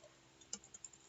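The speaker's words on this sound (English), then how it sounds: "if I were to type something here on the keyboard" Faint, quick clicks of keys pressed on a computer keyboard, about half a dozen light taps in an irregular rhythm over a quiet room hum, close up with no talking.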